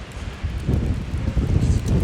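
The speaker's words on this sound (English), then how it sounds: "it's already getting quite windy" Steady wind gusts buffet the microphone with low rumbling noise, no talking, during a walk in Lakeview, Regina.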